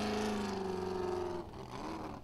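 A Formula OffRoad buggy at an Icelandic race in Akranes with an unusual exhaust system: a loud sustained engine drone that holds pitch, then drops and dips before picking up again.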